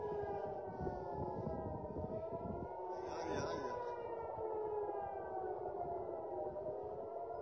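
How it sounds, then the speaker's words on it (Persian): Air raid sirens sounding across Tel Aviv during an attack alert, a sustained wailing tone that holds steady throughout, with speech running over it. "از ساعتی پیش آژیر خطر در تل‌آویو، حیفا و مناطق وسیعی از شمال فلسطین"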